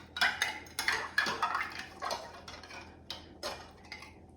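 Metal lid scraping and clicking as it is twisted onto a glass jar of homemade plum jam, a string of short close ticks and grinding turns with small clinks, no talking.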